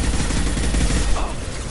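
Dense, continuous video game gunfire crackles close and loud throughout a squad firefight, with volleys of shots overlapping into a steady barrage.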